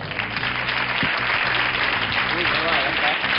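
Studio audience applause on a Spanish copla music show, a dense, loud, continuous clatter of clapping with a few voices and a brief whoop mixed in.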